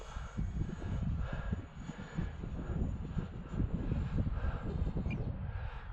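An E-flite UMX F-86 Sabre RC jet on a slow pass at a flying field makes a soft, steady electric ducted-fan whir, faint and wavering as it passes.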